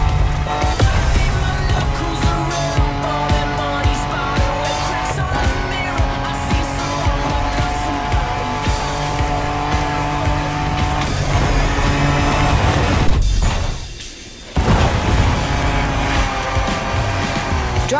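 Cars racing off-road in The Crew Motorfest, loud continuous engine roar with tire squeal and skidding, a brief dip near the end before the engines surge again.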